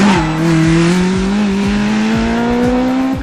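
A Mini race car with twin R1 engines screams along the track, its loud, close engine note climbing steadily in pitch under hard acceleration with regular gear-change dips. No voices are heard.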